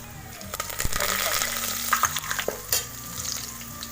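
Garlic, mustard seeds and cumin fry in hot oil with a loud, close, crackling sizzle, while spoon clinks and scraping stir through it in irregular bursts.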